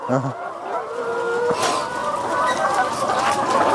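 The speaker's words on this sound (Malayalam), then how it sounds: "ഇവിടെ താഴെ ഫുള്ളായിട്ട് ബി വി ത്രീ എയ്റ്റി കോഴികളും അതുപോലെ തന്നെ കാടക്കോഴികളെയും വളർത്തുന്നുണ്ട്" Chickens and quail, including BV380 hens, in cages on a farm give short clucks and chirps early on, then a busy mix of birds sits under steady room noise and some nearby talk.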